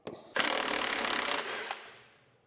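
A hand socket wrench works loose a tight drain plug on a 1938 Ford flathead engine, a close dense rasp of ratcheting and metal grinding lasting about a second before fading out.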